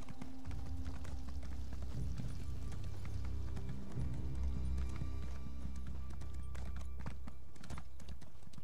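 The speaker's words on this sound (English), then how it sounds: "I think it's really the pattern of the hoof beats." Rhythmic clip-clop of horse hooves trotting steadily in the video game The Elder Scrolls Online, close and clear, over a low sustained musical drone.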